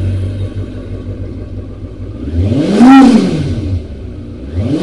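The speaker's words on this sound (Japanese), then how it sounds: "ではエンジン始動いきます。" A Kawasaki ZRX II motorcycle's water-cooled four-cylinder engine starts and idles, then revs up sharply and winds back down, loud and close, settling into a rough idle.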